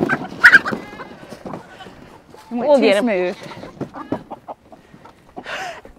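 A chicken squawks and clucks loudly at close range, with one long, harsh call in the middle, while people talk and exclaim around it.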